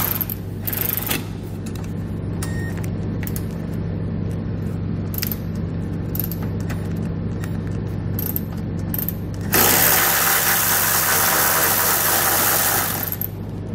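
A socket wrench with a 15 mm socket loosening a nut on a frame stud of a 2020 Chevrolet during a trailer hitch install: scattered mechanical clicks over a steady hum, then a louder, hissing burst near the end.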